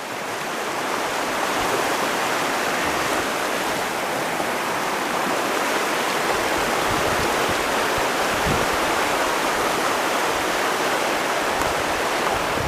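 Steady, full rush of creek water flowing over a shallow bed in rural Carolina woodland, a continuous close wash of noise with no breaks and no voices.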